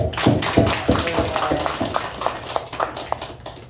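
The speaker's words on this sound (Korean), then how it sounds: "구원 받으신 분들을 위해서 축하의 박수를 드리겠습니다" Applause from a church congregation at an evangelism Sunday service, irregular claps sounding fairly close and moderately loud, with no speech over them.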